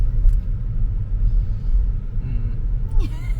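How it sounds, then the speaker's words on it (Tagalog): Road traffic heard from inside a car on a UK road, a continuous low rumble of engine and tyres with a brief squeal near the end, while people talk over it. "the traffic isn't too bad"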